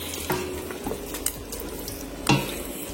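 Homemade vegetable bouillon bubbling in a pot on the stove, a steady low simmer and sizzle with a few sharp clinks of a spoon or utensil against the pot, close and alone with no talking.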